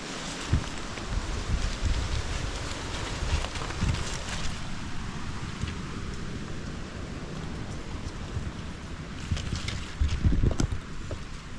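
Dry wind blows through a forest, a steady broadband rush with gusts and rustling that swell near the start and again toward the end, with no voices.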